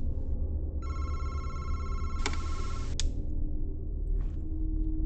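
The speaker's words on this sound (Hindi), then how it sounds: "भाई फोन आ रहा था ना अभी" A telephone ringing in a horror video game, a bright electronic ring lasting over a second, then a sharp crackling burst and a click, over steady low background hum, no talk.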